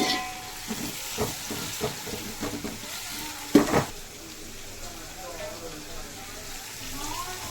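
Biryani ingredients mixed in a pot with ginger paste, coriander and mint, heard as soft, faint stirring and sizzling with scattered spoon scrapes and one sharper knock, steady and close.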